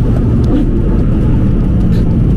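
A tuned BMW M3 E92 with an Akrapovic exhaust accelerates from around 3000 rpm, filling the space with a loud, steady, deep engine rumble heard from close range.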